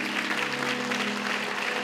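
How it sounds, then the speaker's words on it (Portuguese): A church congregation claps during a worship service, dense, steady applause filling the space evenly and without pause, with a faint sustained tone underneath. "Vamos aplaudir o Senhor mais uma vez."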